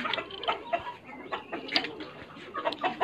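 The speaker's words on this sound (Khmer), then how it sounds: "អំពីប្រភេទមាន់ខ្លៃខ្លៃក៏ដូចជាមេបាពូជមាន់ស្រែមាន់ស្គួយ" Mongolian and Yunnan chickens, including crossbred birds, cluck in scattered short bursts close by, with soft rustling between calls and no talk.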